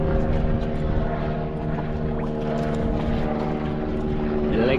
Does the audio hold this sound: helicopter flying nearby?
yes